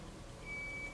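A single faint, high electronic beep from a reversing garbage truck sounds in the distance over a low background hum.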